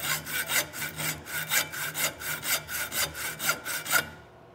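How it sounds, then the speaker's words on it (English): A hacksaw cuts through the metal barrel of a colonial muzzleloader kit gun in steady back-and-forth strokes, roughly three per second, close and clear, ending after about four seconds with no talk. "you don't want the hacksaw to cut into the side of"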